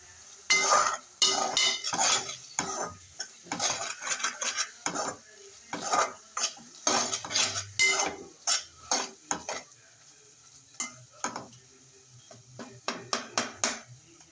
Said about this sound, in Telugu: ఇలా మనం టమాటా ముక్కల్ని గట్టిగా అనేస్తే అవే మ్యారినేట్ అయిపోతాయి మనకి.